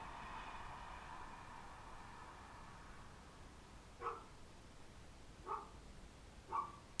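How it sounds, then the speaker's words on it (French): A dog barks three short times in the distance, faint and spaced apart, against a quiet hiss of background noise after a low rumble fades away. "Il y a un chien qui aboie"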